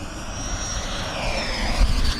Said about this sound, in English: High speed pass down the runway again.